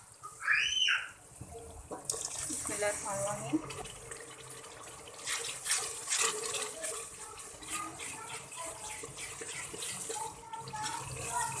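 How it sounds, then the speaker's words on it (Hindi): After a brief spoken phrase, water splashes onto dry spices in a hot pan, followed by loud, steady sizzling and crackling. "हल्का सा मैं इसको पानी का छींटा लगाऊंगी ताकि ये ड्राई मसाले हैं"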